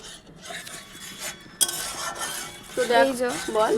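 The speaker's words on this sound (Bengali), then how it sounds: "এই যতক্ষণ না তেল ছাড়ছে ততক্ষণ পর্যন্ত এটাকে কষাতে হবে" Spices and fresh chhena being stirred and fried in a pan, with metal utensil scrapes and clinks against cookware, a sharp knock partway through, and brief background voices near the end.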